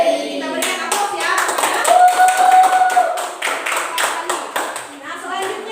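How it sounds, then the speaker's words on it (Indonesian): An audience of students claps in a burst of applause after a classroom group presentation. The dense, sustained clapping is close and fairly loud, then thins out toward the end, with some voices mixed in underneath. "Kita berikan aplaus ya."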